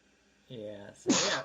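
A single sharp sneeze bursts out close to the microphone right after a brief spoken remark during a cycling podcast conversation.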